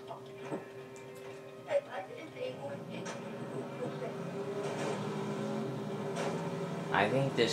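A car engine hums and revs in the Mercenaries 2 video game, a fairly quiet, uneven drone with clicks and rattles. Players talk over it throughout.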